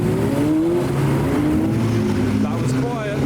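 A GT3 sports car drives past at a hypercar meet, a fairly quiet steady engine note that rises gradually, heard from trackside with crowd noise and people talking.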